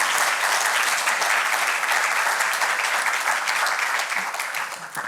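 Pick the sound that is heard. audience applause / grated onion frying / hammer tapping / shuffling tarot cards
audience applause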